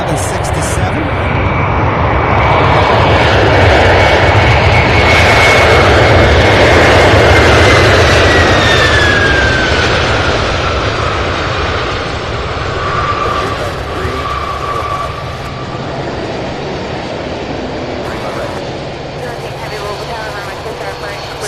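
A Boeing 767 airliner arrives at Louisville's SDF airport with a loud, sustained jet roar that swells over the first several seconds, then eases while a whining engine tone glides downward; a voice talks throughout.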